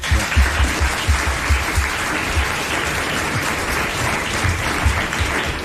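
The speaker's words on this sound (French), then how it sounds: "Vous l'applaudissez." Loud, sustained applause from a large television studio audience, dense and continuous for several seconds.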